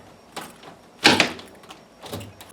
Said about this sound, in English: So we're going to lock the door.